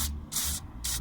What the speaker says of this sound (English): you can also then just spray a bit of silicone